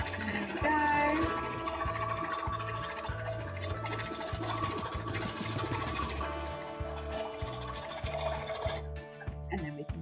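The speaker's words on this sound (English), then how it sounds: "Does require sewing as well." Sewing machine stitching fabric for a mock-up, a rapid mechanical chatter in rhythmic bursts that carries on for most of the stretch, then drops off briefly near the end.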